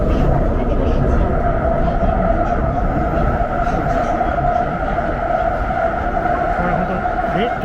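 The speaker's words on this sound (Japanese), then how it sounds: "電車の音がすごい音大きいですね。" Loud, steady roar of a metro train running on the Shanghai-Kunshan line, a continuous rumble with a high whine and rattling that fills the whole stretch without letup.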